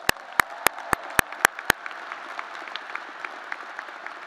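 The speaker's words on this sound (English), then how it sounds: "Let's give them another round of applause." An audience at a graduation ceremony applauds, with a few sharp close claps at first and then a softer, sustained spread of clapping.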